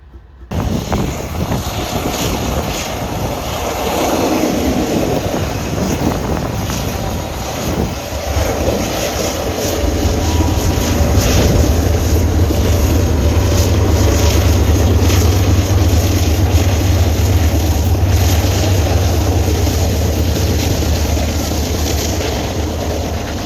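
BNSF 705 locomotive leading a grain train out of Minot, a steady broad rumble that builds after about ten seconds into a deep sustained diesel drone, heard from nearby with wind noise and no talking.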